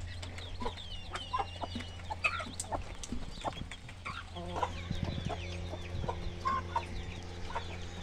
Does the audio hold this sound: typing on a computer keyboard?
no